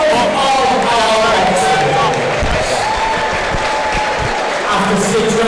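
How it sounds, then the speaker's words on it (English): A boxing crowd applauds and cheers after a six-round bout, loud and steady throughout, with voices and shouts mixed in under the clapping. "can we please have a big round of applause"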